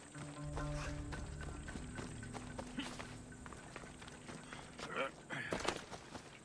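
Hooves of a horse in the game Assassin's Creed Odyssey clop rhythmically as it runs, steady and moderately close, with someone talking over the hoofbeats for much of the stretch.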